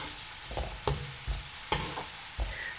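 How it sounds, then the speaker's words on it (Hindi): Onions being fried in oil in a home kitchen pan, with soft sizzling under repeated stirring scrapes and clinks, several sharp utensil knocks spaced about half a second apart. "अब इसके अंदर हम डाल देंगे प्याज। प्याज को फ्राई करेंगे।"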